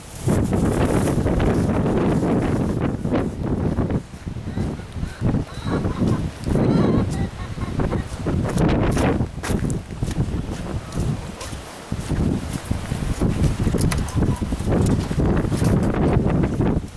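Strong wind buffets a microphone outdoors after rain near a backyard chicken area and gazebo, a loud continuous roar with gusty surges and rustling throughout.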